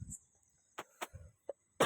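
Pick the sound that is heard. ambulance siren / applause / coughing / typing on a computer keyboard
coughing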